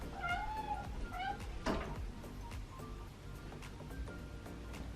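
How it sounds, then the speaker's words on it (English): A house cat meows several times up close indoors, with a cluster of short, insistent calls early on and a louder cry near the middle, before quieter room sound takes over. "I think my cat wants to leave now."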